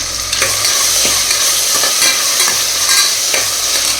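Tomatoes cooking in a pan for mutton curry, a loud continuous sizzle broken by repeated scraping stirs, close up and with no talking.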